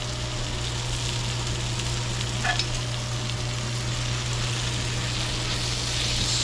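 Tomato paste is stirred into sautéed vegetables in a pot, with a steady soft sizzle and a faint scrape of stirring over a constant low hum.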